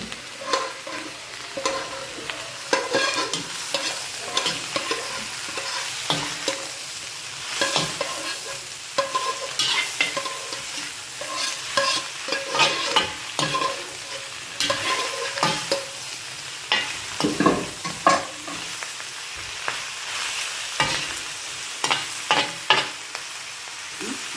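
Celery and chopped green spices sizzle in a hot pan while a utensil stirs them in repeated scraping strokes, a steady close frying hiss running throughout with no talking.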